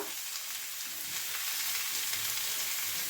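Whole spices (bay leaf, cinnamon and dried chili) sizzle steadily in hot oil, a close, continuous crackling hiss with no talking.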